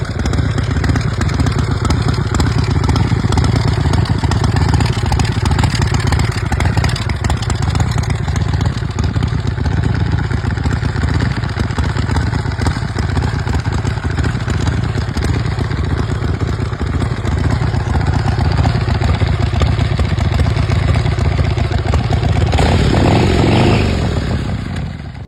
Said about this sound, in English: Powered by a 127 cubic inch Ultima engine, it delivers a thunderous roar